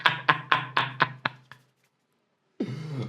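A voice imitates a twitching sound effect with six quick, close percussive clicks in a slowing rhythm, then a pause and a brief rough vocal burst; no words are spoken.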